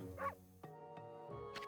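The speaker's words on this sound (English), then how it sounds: "But I know that bark anywhere." A dog barks in the Okami video game, a single sharp yip followed by a couple of shorter barks over a steady tonal music bed, fairly close and clear.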